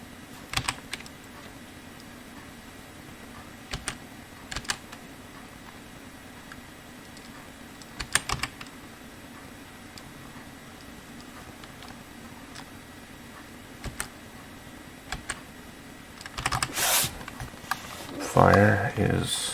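Sparse clicks and taps on a computer keyboard, a few isolated keystrokes spread out over a quiet hum, with a short cluster of louder clicks near the end while someone talks quietly.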